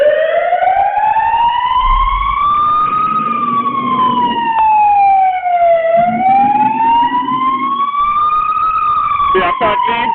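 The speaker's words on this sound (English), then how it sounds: "Siren." A fire engine siren wails loudly and close while responding to a house fire, its tone rising and falling in long slow sweeps. Rapid yelp bursts come near the end, and a low engine rumble sits underneath.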